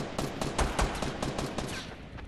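Video game gunfire in a multiplayer shooter match, a quick irregular run of shots that sounds moderately distant and recurs over a couple of seconds with no talk.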